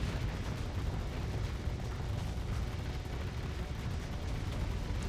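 A continuous dense roar of rocket barrages and explosions in the space combat game StarSector, loud and unbroken, with no pauses or separate blasts standing out.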